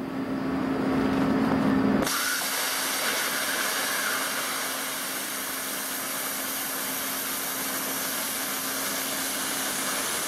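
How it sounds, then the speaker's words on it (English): A plasma cutter slicing quarter-inch steel plate sets off a sudden, loud, steady hiss that holds at the same level for several seconds after a short hum at the start. "I'll cut this 1/4 inch and just watch how the arc penetrates the top and comes out the bottom"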